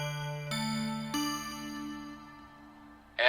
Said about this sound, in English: a short arrangement of bells sounds on the intercom